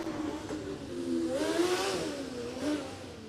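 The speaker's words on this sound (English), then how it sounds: "it's also nice to hear some high revving engine here" A Formula Student race car engine revs high as the car pushes around the track, a moderately distant whine that climbs and falls through gear changes.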